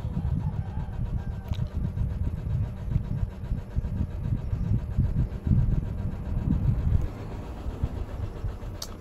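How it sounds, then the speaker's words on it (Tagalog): Motorcycles rumble past, their mid-range engine noise swelling and fading in a continuous low drone for several seconds before dropping away near the end. "pag wala nang ingay ang manok, yung mga motorsiklo na naman ang mag-ingay"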